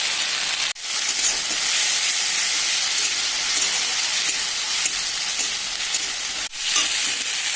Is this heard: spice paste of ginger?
yes